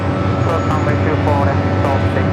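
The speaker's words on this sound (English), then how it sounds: "This is that flight 34 coming in from Tokyo Narita, 787-8 Dreamliner." A Boeing 787-8 Dreamliner arriving at Los Angeles International Airport from Tokyo Narita, its jet engine roar steady and loud throughout, with an airband radio voice talking faintly over it.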